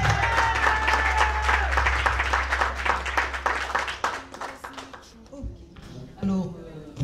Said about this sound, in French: Alors, on applaudit donc Dr Chantal.